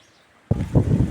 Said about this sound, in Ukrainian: А тут вітер з поля